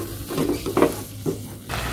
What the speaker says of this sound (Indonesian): Ini kita aduk lagi sampai tomatnya matang.